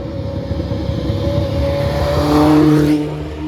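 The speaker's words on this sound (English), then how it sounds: "But even an F2 car is just ridiculous sounding." An F2 single-seater race car at the Spa circuit during a DTM weekend accelerates past trackside, its high engine note building loudly and peaking near the end before fading, with no talk.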